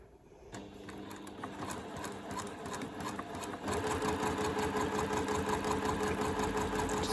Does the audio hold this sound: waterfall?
no